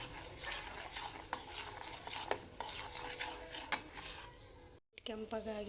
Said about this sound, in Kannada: ಹಾಕ್ತೀನಿ ಚೆನ್ನಾಗಿ ಹುರಿದು ಮಾಡ್ತೀನಿ